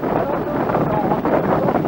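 Strong wind outdoors buffets the microphone with a loud, continuous low roar and rumble throughout.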